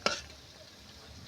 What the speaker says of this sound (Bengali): মুচমুচে করে সব বড়া আমার ভাজা হয়ে গেছে